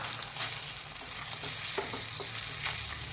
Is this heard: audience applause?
no